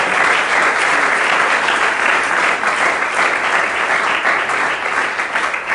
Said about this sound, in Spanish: ¿Quiere dar un aplauso al Señor en esta mañana?